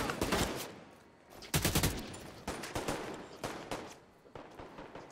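Bursts of automatic gunfire in The Division 2 on hardcore mode, rapid rattling volleys that come and go in several clusters, sharp and fairly close, with no talking.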